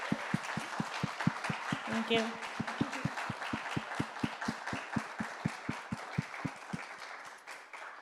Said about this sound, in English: Can everyone just join me in a round of applause for Joanna?